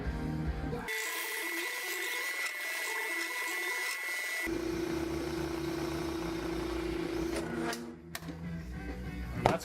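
A hand reamer cuts through a 1-ton GM rod end, giving a steady grinding mechanical whir with a tonal ring that shifts partway through. The tool runs continuously and close up, with a brief scrape near the end and no talking.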